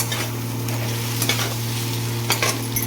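Steady sizzling from a frying pan with a spoon scraping and stirring through spices for a dal, a few louder scrapes standing out, no talking.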